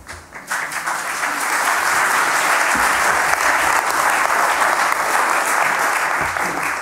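Sustained applause from a theatre audience for a play's cast and director, a dense, steady wash of many hands clapping that swells in after a brief quiet start and holds loud throughout.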